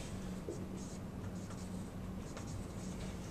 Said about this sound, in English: I'm just going to write that as 10 to the ninth